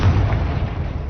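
A Confringo fire-blast spell bursts in Hogwarts Legacy as one short, heavy boom with a deep low-end thump that fades quickly.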